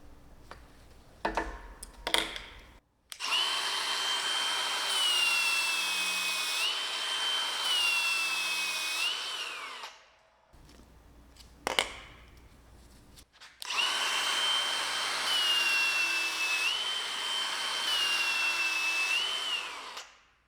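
A flap disc on an angle grinder grinds a metal workpiece in two sustained bursts of steady whining abrasion, loud and close, with brief clattering handling noises before each burst.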